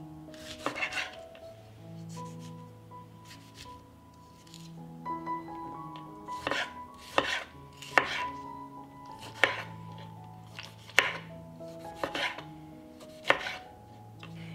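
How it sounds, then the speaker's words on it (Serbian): A knife chops tomatoes on a cutting board in a series of sharp, irregular knocks, some in quick bursts, with faint kitchen clatter and a steady hum beneath. "I na kraju ću iseckati paradajz."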